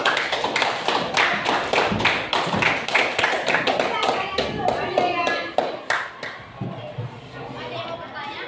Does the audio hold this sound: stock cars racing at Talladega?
no